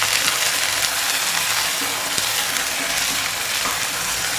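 Two medium onions fry with chillies in a hot pan, giving a steady, even sizzle with a few faint clicks of stirring, close and continuous with no talk.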